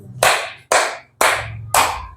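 Classroom applause in an Indonesian primary lesson: four short, sharp bursts of unison clapping, each a crisp hit that fades quickly, spaced about half a second apart, close and fairly loud with no talk.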